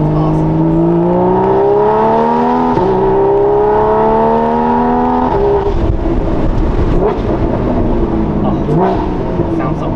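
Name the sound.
Porsche 981 with Soul Performance competition exhaust revving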